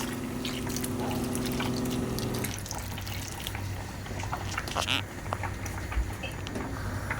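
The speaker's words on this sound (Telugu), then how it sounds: "దాంట్లోకి కొంచెం ఒక కప్పు వేడి నీళ్ళు వేస్తున్నాను." A cup of hot water is poured into a pan of spiced raw mango curry, giving a continuous close pouring rush that settles into softer bubbling and trickling with a few small clinks.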